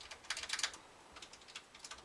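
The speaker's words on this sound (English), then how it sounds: "They're very loose. Do you hear that? That's the pegs." Loose tuning pegs on a Harmony Kay guitar being turned, giving faint, irregular light clicks and ticks in quick bursts over about two seconds, close up and quiet, with no talking.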